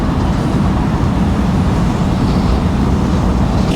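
A truck drives out of the woods with a loud, steady, close engine rumble and continuous low road noise throughout.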